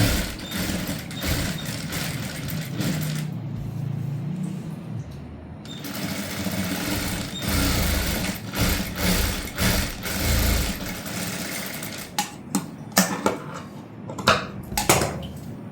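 A sewing machine runs in steady bursts while stitching piping onto the lower edge of a prince cut blouse, with near, continuous mechanical whirring that pauses briefly and ends in short stop-start runs.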